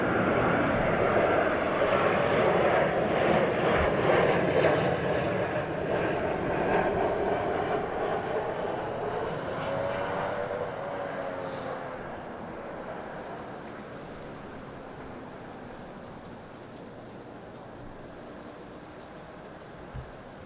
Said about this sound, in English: Down with the Ryanair, Lauda A320 taxiing over